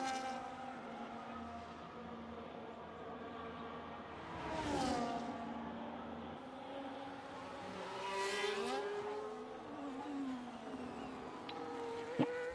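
A Formula 1 race car lapping Monaco in a racing video game: a high, whining engine rises and falls through gear changes, fairly faint and steady, with the pitch swelling and dropping in places.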